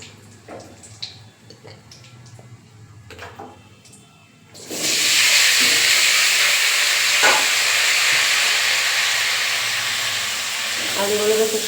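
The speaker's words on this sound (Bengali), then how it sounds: "এবার আমি আলুগুলো ছেড়ে দেবো" Soft clicks and small kitchen sounds come first, then potatoes drop into hot oil with cumin and a sudden loud, sustained sizzle takes over, staying strong and even to the end.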